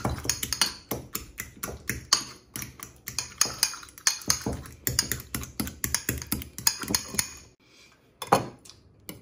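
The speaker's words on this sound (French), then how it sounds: "À l'aide d'une fourchette, on va mélanger bien notre mayonnaise avec le jaune d'œuf." A fork beats egg yolk into mayonnaise in a bowl, making rapid, irregular clinks and taps of metal on the dish, loud and close, with a short pause near the end before a final few strikes.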